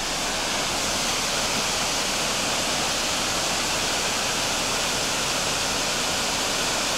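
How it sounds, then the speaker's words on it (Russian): A steady, dense roar of falling water, continuous and unbroken like a nearby waterfall, with no voices. "Ой, смотри, какой водопад."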